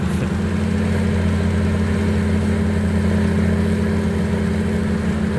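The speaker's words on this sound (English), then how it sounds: "This tractor is struggling in this field." A tractor engine labors at a steady drone while spreading manure on a Wisconsin farm in a farming video game, a constant low, loud rumble with a slightly uneven throb and no voices.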